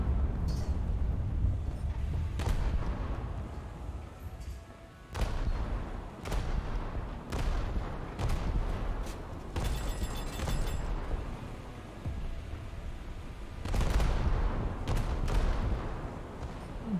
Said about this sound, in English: Let's see what that salvo does against him.